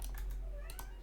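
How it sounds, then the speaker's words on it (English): A cat meows briefly in the background, faint and somewhat distant, with light clicking like keyboard typing close by. "I don't know if you can hear my cat in the background."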